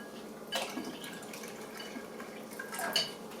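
Water poured into a pitcher of homemade lemonade, a quiet splashing trickle with a few brighter bursts, steady but faint and close, with no talking.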